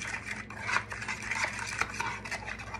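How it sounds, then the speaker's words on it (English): Sugar, a ramen seasoning packet, oil and vinegar being whisked together in a bowl, giving a steady, close scraping and stirring rustle with faint utensil clicks and no talking. "Make sure everything is whisked together."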